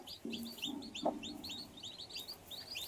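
Baby chicks give rapid, repeated high peeps and soft clucks throughout, with one louder low cluck near the start, close by and without talk.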